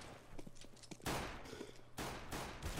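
Rapid gunfire bursts in a Counter-Strike match, fairly loud with a sharp crack at about one second and another volley near two seconds, no talk.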